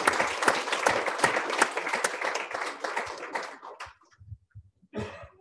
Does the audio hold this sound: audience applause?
yes